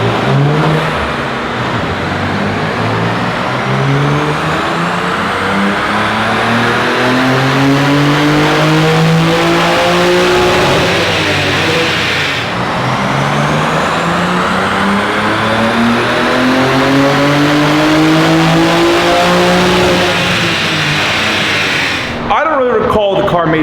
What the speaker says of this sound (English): So let's do some dyno hits.